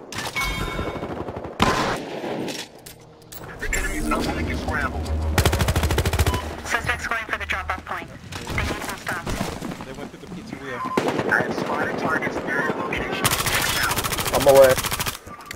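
Rapid automatic gunfire and bursts from Battlefield Hardline's bank job heist mode, loud and repeated throughout, mixed with game effects and players talking over it.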